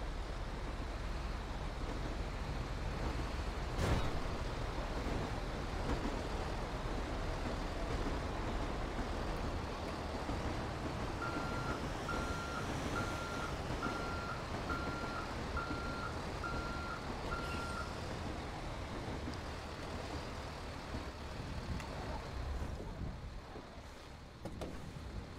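A rotator tow truck in GTA 5 rumbles steadily while a short run of evenly spaced reversing beeps rises over the engine drone for several seconds, all without talk.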